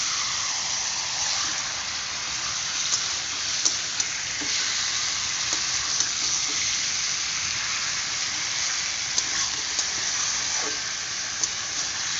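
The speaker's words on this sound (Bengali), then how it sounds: "চিকেনের উপর একটু লবণও দিয়ে দিয়েছি এখন ভালো করে নাড়িয়ে নেবো" Salted chicken pieces fry in a hot pan with a steady, bright sizzle while being stirred, with faint scraping clicks scattered through.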